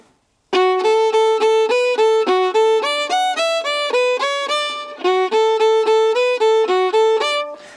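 A lively Irish melody played evenly in a rigid, metronomic rhythm, each note clean and separate, by a bright wind-like instrument with no accompaniment.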